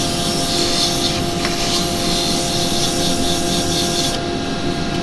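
Abrasive paper rubs against a turned wooden piece spinning on a woodturning lathe, a loud, continuous rasping hiss over the lathe's steady hum, close up and unbroken.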